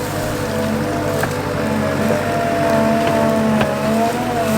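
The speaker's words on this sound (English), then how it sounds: "gonna dig them out with a skid loader" A skid loader digs out good-sized rocks, its engine a steady, loud mechanical drone with a continuous hum throughout and no voices.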